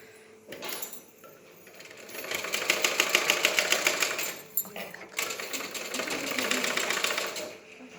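A sewing machine stitches a frock in two bursts of rapid rhythmic clatter, close and fairly loud, separated by a short pause, with a quieter start before the first run.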